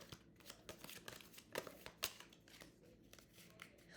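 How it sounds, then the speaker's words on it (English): An Exploding Kittens card deck is shuffled by hand, giving quiet, close, irregular papery riffles and snaps spread across a few seconds. "This player shuffles the deck."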